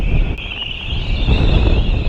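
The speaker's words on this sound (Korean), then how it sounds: "바람 소리 미쳐버리겠네" Strong wind buffeting a microphone on a cliff-top trail at Cape Kamui on the Shakotan peninsula, a loud, continuous roaring rush with low rumbling gusts throughout.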